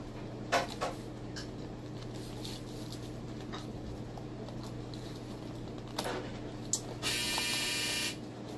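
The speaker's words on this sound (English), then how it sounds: "Don't mind that. It's just a dryer." A steady low mechanical hum with a constant drone runs throughout, broken by a few light clicks and a brief hiss near the end.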